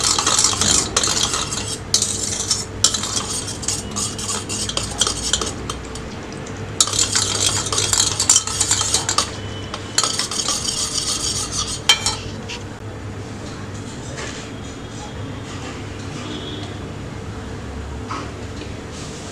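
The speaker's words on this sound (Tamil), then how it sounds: "இதை வந்து நல்லா ஸ்டிர் பண்ணி விடுங்க." Jello mix is stirred in chilled water with ice cubes, giving bursts of bright clinking and rattling against the bowl, broken by short pauses, with no talk.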